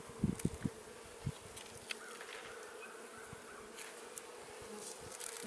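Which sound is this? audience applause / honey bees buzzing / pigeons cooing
honey bees buzzing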